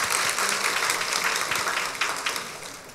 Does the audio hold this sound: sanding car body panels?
no